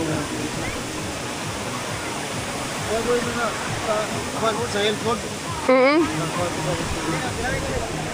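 Steady broadband rush of Piduan Falls, a waterfall whose water filters through rock, fills the scene at close range while someone talks over it throughout.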